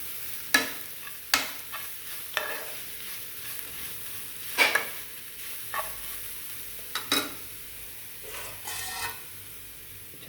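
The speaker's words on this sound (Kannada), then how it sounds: "ಉಪ್ಪು ಹಾಕ್ಕೊಂಡು ಸ್ವಲ್ಪ ತಿರುಗಿಸಿ" A spoon scrapes and stirs fenugreek-leaf rice in a hot pan after salt goes in, making a series of sharp, irregular scraping strokes over a low, constant sizzle.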